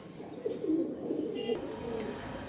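Soft, low cooing of racing pigeons rises and falls in a steady murmur, fairly close, with faint background noise and a brief chirp.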